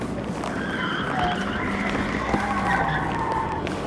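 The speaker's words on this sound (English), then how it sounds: "The young driver steps on the gas and charges into a residential area" A stolen car speeds through a residential neighborhood with tires skidding and squealing over a steady engine roar, heard from a distance and continuous, with no one talking.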